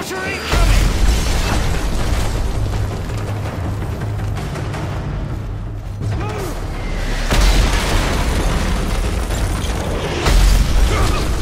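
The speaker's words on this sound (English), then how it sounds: "Mortar" Mortar shells explode during a Call of Duty Modern Warfare 3 battle, with deep booming blasts rising out of a constant loud rumble of combat noise, one heavy hit near the start and more close to the end.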